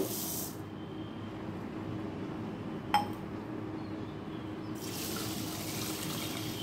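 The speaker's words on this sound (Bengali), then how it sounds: "সবার আগে চালটাকে ভালো করে ধুয়ে নেব।" Rice being washed in water for mutton pulao: quiet running water and gentle swishing, with a single clink from the vessel midway and the flow of water briefly louder at the start and end.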